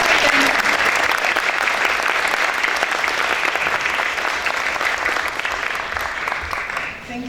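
Conference audience applauds partner organizations at a 2017 opening session, a loud, dense, continuous roar of clapping from a large crowd that holds steady for several seconds before tapering slightly at the end.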